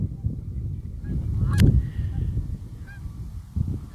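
Canada geese honking outdoors, a few calls from fairly close with one loud squawk in the middle, over low rumbling background noise.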